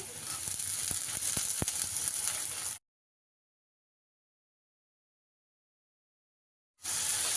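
Capsicum and carrot sizzling in a hot pan for chicken spring roll filling, a bright crackling hiss with a few sharp clicks, cut off by a stretch of silence before resuming.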